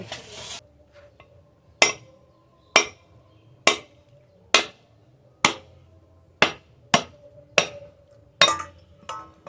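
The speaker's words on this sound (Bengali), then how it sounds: "নারকেল খোসা ছাড়িয়ে ধুয়ে খুব ভালো করে পরিষ্কার করে নিয়ে এসেছি এখন ফাটিয়ে নেব" A peeled, washed whole coconut is cracked open with about nine sharp, hard knocks, spaced roughly a second apart. Each blow rings briefly with a dull, woody clink against near silence.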